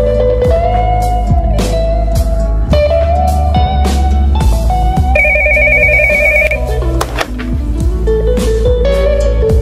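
A shop telephone rings repeatedly in a loud electronic ringtone melody, bright tones stepping up and down in a steady pattern with no voices.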